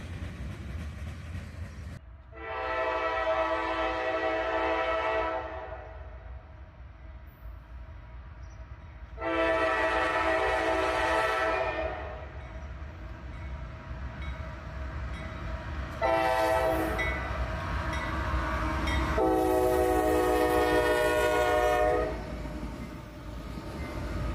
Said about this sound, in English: Southbound autoracks this time, led by an AC44CW and a Tier 4 Gevo ET44 AH.